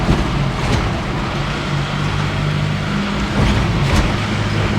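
Car driving through a cut-through tunnel, with a steady engine and road drone enclosed close by and a few faint knocks over the top.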